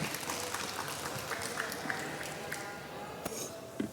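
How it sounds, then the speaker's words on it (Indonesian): Studio audience at an Indonesian architecture homecoming talk show breaks into steady applause, a dense crackle of clapping with a few sharper claps standing out, continuing through the whole stretch. "terima kasih buat Kang Gosya, kita berikan tepuk tangan, kita apresiasikan yuk."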